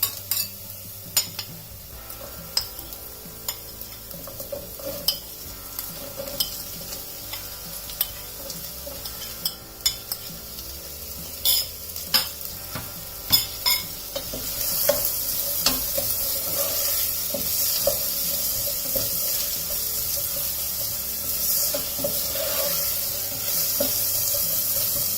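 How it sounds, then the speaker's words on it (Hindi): Onions sizzling in a pan for Hyderabadi lukmi, with a utensil repeatedly scraping and tapping the pan in an irregular rhythm as the frying hiss grows louder and steadier partway through. "प्याज को हम हल्का गुलाबी होने तक भूनेंगे।"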